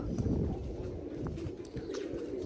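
Pigeons coo softly and steadily at a loft, a low murmuring close by with faint chirps and background rustle.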